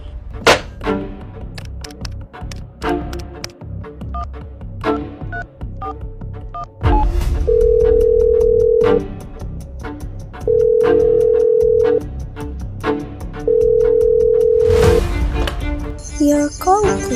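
A telephone is dialed in a radio play, with a series of sharp clicks and keypresses followed by a repeating busy signal, three long steady tones separated by short gaps, close and clear with little talk.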